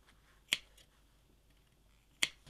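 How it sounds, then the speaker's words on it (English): Two sharp, crisp scissor snips cut fabric around a curved seam edge, about two seconds apart, close and clear against a quiet background. "Clip round the curve a little bit. Just a few snips to make it lie a bit flatter."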